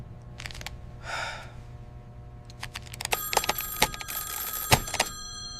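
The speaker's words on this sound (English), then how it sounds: "That phone won't stop." A telephone rings repeatedly in a tense sheriff's office, its bell-like trills coming in bursts loud and close over a low background hum, with a brief whooshing noise just before.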